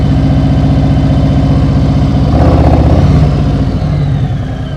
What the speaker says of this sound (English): Listen to my throttle, keep it up.